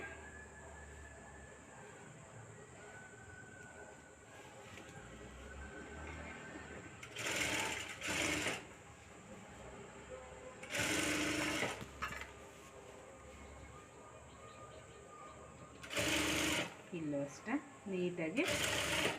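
Sewing machine stitching a blouse piece, running in several short loud bursts of rapid stitching separated by quieter pauses, with someone talking over the quieter stretches.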